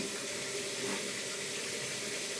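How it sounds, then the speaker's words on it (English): Water runs and splashes steadily in a Frankford Arsenal wet tumbler, a continuous rinsing rush with no voices. "You can start noticing the water getting cleaner."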